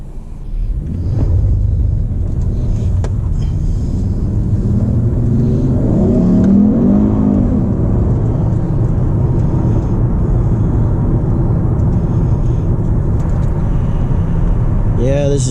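A car drives on the road on a cool, cloudy day, its low engine and road rumble steady throughout, swelling briefly as it accelerates midway, with faint cabin noise along with it.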